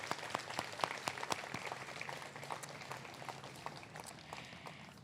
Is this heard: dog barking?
no